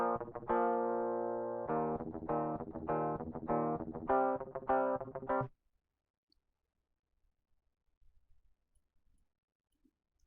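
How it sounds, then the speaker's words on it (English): Electric guitar heard dry, straight off its pickups with no amp, in a metal songwriting session: several seconds of loud, ringing chords and note bursts in a rhythmic riff, then it cuts off to near silence. "This is how it sounds directly off of the pickups."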